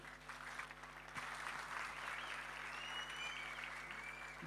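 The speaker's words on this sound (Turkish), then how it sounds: "Alkışlarla efendim." A crowd at a Memleket Partisi political event applauds a newly announced mayoral candidate: a steady, distant-sounding wash of clapping held at a low, even level throughout, with a faint hum underneath.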